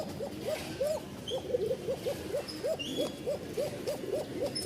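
A Rajshahi Giribaz pigeon gives a rapid, regular series of thin, high cooing calls, close and fairly soft, repeating steadily with no talk over it.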